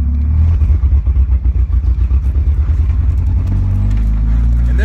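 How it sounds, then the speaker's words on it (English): A 2.5L Jeep engine misfires while driving, a loud low rumble with an irregular stumbling, chugging pulse that becomes steadier toward the end. "So we're driving it around right now to see if we fix the misfiring issue that we've been having."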